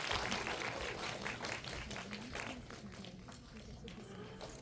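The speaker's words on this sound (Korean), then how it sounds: "큰 박수로 맞이해주세요." Audience applause at a film talk event in a Dolby Cinema theatre welcoming the cast and director of the film Harbin, dense steady clapping with some cheering under a mixed crowd din.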